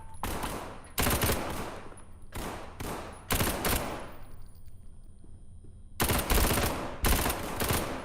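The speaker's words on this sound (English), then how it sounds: "My go-to gun in this game is the Galil Ace 22N or 21N." A Galil ACE 22N/21N 5.56 rifle fires in the SCP: 5K video game, sounding as loud sustained bursts of automatic fire separated by short pauses, with several clustered volleys followed by a quieter stretch before two final bursts.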